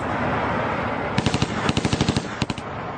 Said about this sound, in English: Cole sprays the street with gunfire, hitting a number of people